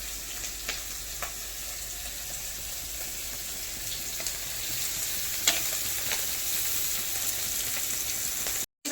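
Mushrooms fry in a pan until they turn reddish-brown, giving a steady, close sizzle with scattered pops and crackles that run without a break for the whole stretch.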